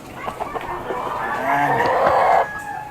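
Chickens in a small rooftop coop cluck and call close by, with a longer drawn-out squawk near the end over a steady background hum.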